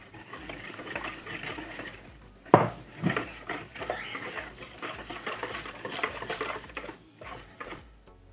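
A liquid egg mixture for a sponge cake's custard cream is stirred by hand in a pot, a close, steady swishing and scraping with one sharper knock near the middle.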